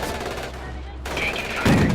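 Gunfire in the World War II strategy game Company of Heroes, with bursts of machine gun and rifle fire crackling over a low engine rumble, ending in a louder nearby burst and impact.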